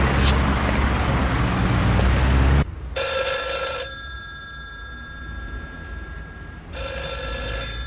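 A telephone rings in two bursts of repeated electronic trills, with a pause between them, standing out clearly over a steady background hum.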